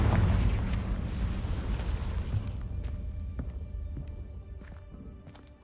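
A Confringo blasting curse explodes in the Hogwarts Legacy video game, a loud rumbling boom at the start that trails off into a decaying roar with scattered small crackles.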